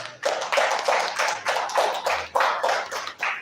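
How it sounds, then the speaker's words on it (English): A few people clapping in rhythmic bursts for the head of department at an international electrical engineering applications conference; distinct, fairly close claps pulse in uneven groups, sparse rather than a full crowd, with no talk. "I think the HOD deserves a bigger round of applause."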